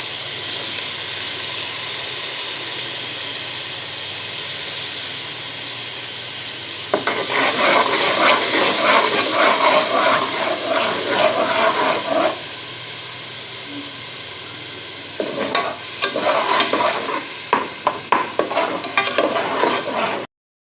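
Tomato paste goes into frying onion masala in a karahi: a low steady background sizzle swells into louder crackling frying with stirring scrapes, fades back, then returns in bursts with clinks of a utensil against the pan.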